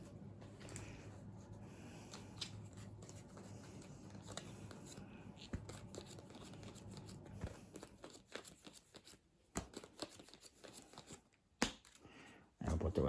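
Cards for the board game Zuuli are dealt onto a table, a run of soft quick flicks and slaps, close and fairly quiet.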